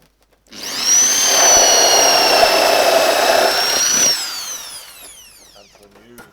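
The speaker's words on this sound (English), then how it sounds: "Okay, so you'll keep drilling." A power drill with a hole saw cuts through a foam float raft for aquaponics, a loud steady whirring grind of several seconds that winds down and stops.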